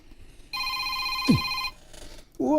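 A telephone rings once, a steady electronic trill of about a second with a short knock and a voice partway through, then brief talk afterward.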